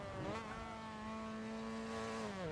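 A race car engine in a sim racing game revs steadily at a high pitch, holding a sustained whine with one brief rise in revs near the start, loud and alone with no talk.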